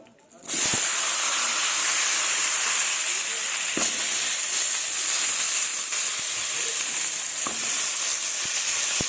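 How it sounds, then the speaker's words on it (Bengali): Broad beans and potatoes dropped into oil left from frying fish burst into a sudden loud sizzle that holds steady and close, with an occasional faint click from the pan. "এবার ওই মাছের তেলেই সিম আলুগুলো ভেজে নেব।"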